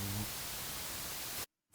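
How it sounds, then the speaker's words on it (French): Heavy rain in the video game Until Then, a dense, even hiss of downpour that cuts off abruptly near the end. "La pluie s'intensifie."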